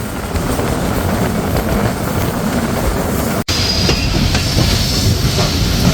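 Steady, loud rumble and clickety-clack of the Barendra Express intercity train running into Natore station, heard from inside the carriage, with a brief drop in the noise partway through and a faint metallic wheel squeal.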